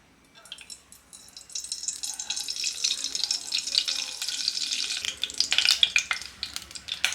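Oil sizzles and crackles in a pan on a stovetop burner, a steady frying hiss that builds gradually and grows denser with sharper pops toward the end.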